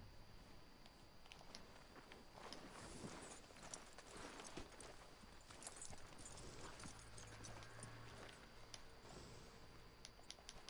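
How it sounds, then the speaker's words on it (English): Horse hooves clip-clop in the western video game Red Dead Redemption 2, a quiet, steady rhythmic plodding that continues through the whole stretch with faint background ambience and no talk. "Are you gonna mount that new horse of yours or not?"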